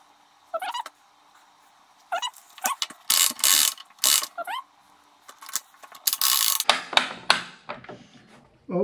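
Ratchet cranked to tension kite line for a strength test, with repeated bursts of loud clicking pawl and gear noise broken by pauses, close by, along with some squeaky mechanical sounds.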